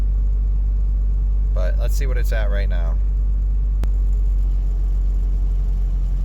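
A turbocharged car, recently fitted with an eBay boost controller, idles with a steady low rumble throughout, while someone talks briefly over it.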